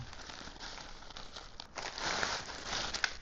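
Soft, close crinkling of a cheap thin vinyl tripod bag, rustling irregularly and growing a little louder toward the end.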